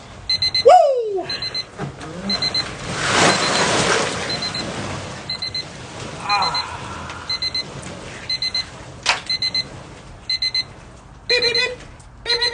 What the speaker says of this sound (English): Beep, beep, beep. Beep, beep, beep.